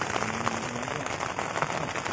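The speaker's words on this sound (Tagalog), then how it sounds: "Grabe ang ulan." Steady, unbroken rain drums close and even on a tent at a budget campsite, a dense continuous patter with no pauses and no voices.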